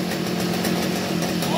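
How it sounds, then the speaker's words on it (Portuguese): A small outboard motor on a kayak idles with a steady, low, even rumble that stays close and unchanging throughout. "Olha a lenta do motor."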